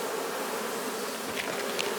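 Honey bees buzz densely at an open hive during an inspection, a continuous close, loud hum with some individual bees droning nearby.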